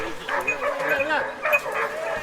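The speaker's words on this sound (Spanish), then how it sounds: "escuchar esos ladridos, cada vez más fuertes" Dogs barking in a Pyrenees forest, a run of yelping, excited barks that carry on steadily and seem fairly close, layered with one another.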